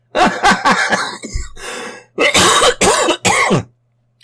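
A person clears their throat and coughs several times in close, loud bursts, with short pauses between them.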